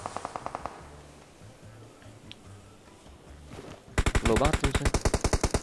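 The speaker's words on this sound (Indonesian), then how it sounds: "Dua orang nembakin gua." Automatic gunfire in the video game PUBG: an early rapid burst, then a quieter stretch under brief talk, then a loud, close run of evenly spaced shots to the end.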